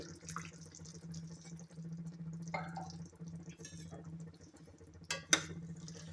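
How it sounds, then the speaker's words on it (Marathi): Half a glass of water is poured into a pan of traditional Bhogi vegetable curry, giving a faint, brief splash and pour near the end. The kitchen is otherwise quiet, with no talk. "अर्धा ग्लास पाणी मी घालते आहे"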